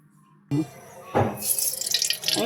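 Tap water runs into a kitchen sink while freshly cut bhol fish from the Bay of Bengal is rinsed. It starts with a sudden gush, then gives a continuing splashy flow with brief surges, close and fairly loud.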